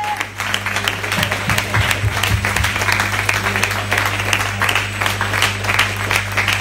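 Church congregation applauding in worship, acclaiming the Lord, a steady, loud wash of many hands clapping together with a sustained low hum underneath and a brief voice near the start.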